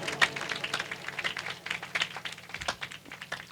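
A church congregation at a Sunday service claps together in a sustained, fairly faint round of applause, steady and dense with no talking over it.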